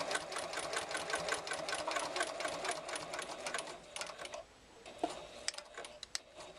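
Close, rapid rhythmic stitching of a sewing machine running across a bulky zipper pouch seam, pausing briefly before a few slower stitches and clicks.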